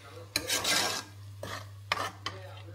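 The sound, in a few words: chicken curry ingredients frying in pan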